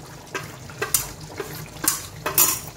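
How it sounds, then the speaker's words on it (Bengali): Cauliflower roast seasoned with shahi garam masala being stirred in a pan, giving a handful of irregular, close scraping clatters of spoon against metal. "একটু নাড়াচাড়া করে নেব।"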